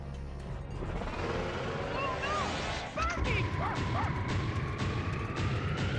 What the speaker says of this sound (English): there was the dog barking